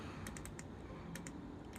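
Fast bursts of typing on a computer keyboard brought outdoors while setting up a 1987 Nissan 200SX S12 Silvia drift car, with clusters of sharp key clicks at an uneven rhythm over a steady low background hum.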